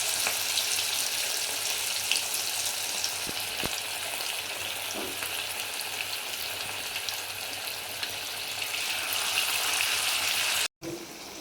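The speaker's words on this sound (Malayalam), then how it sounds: "എന്നിട്ട് ചൂടായ ഓയിലിലേക്ക് ഇട്ട് കൊടുക്കാം." Onion vada (ulli vada) frying in hot oil over a medium flame, a steady close sizzle and crackle running throughout with a few brief clinks, and no talking.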